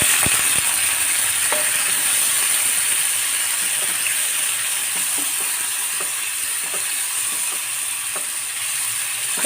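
Boiled mutton, cooked with salt and turmeric, sizzles in a pan for a pepper and curry-leaf chukka, a steady close hiss with scattered light scrapes and clicks of stirring.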